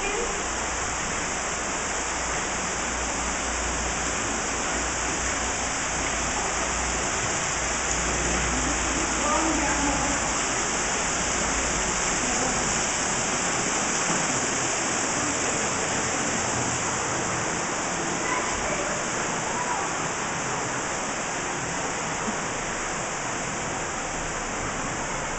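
A zoo waterfall roars in a steady, broad wash of falling water, continuous and even throughout, with faint voices beneath.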